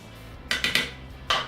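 Crack cookie dough being mixed with oats in a bowl, heard as four sharp, close clinks of a utensil against the bowl in quick succession with a pause before the last, and no talking.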